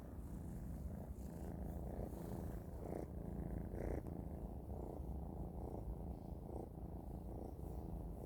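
A tomcat purrs steadily and close up, a continuous low rumbling vibration with slow rhythmic pulses, no talking.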